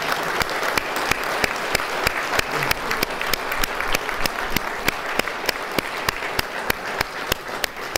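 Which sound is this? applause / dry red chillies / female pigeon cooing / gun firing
applause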